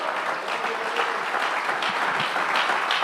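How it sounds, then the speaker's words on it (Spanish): Steady congregation applause at a church service filling the whole stretch, a dense wash of many hands clapping together in a large room, with no talking over it. "Dele un aplauso al Señor Jesús."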